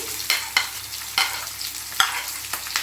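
Sliced onion and green chillies frying in a hot tempering of seeds for a fresh coconut and chana dal curry, a soft steady sizzle broken by sharp scraping stirs of a spatula every half second or so.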